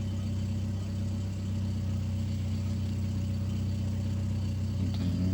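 A warm car engine with a P0507 fault and check-engine light idles too high at about 900 RPM instead of 800, a steady, close, continuous hum with a faint click near the end.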